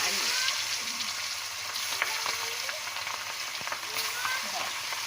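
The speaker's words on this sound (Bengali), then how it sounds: "এখন আমরা তেলের ভিতরে মাছ ভাজবো" Hilsa fish sizzles and crackles in hot oil in a wok, a constant bright hiss with scattered pops, close up and steady.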